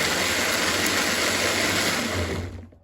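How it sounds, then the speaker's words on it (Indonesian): Electric blender whirring steadily as it grinds a chili spice paste for Sundanese jengkol stew, a loud continuous motor drone that runs without talk and winds down at the end. "Urang blender heula sekarang"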